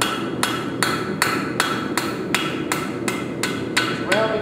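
Hammer forging the corner of a plain stamped horseshoe, eleven sharp metallic strikes at a steady, even rhythm, close and loud over a low background hum.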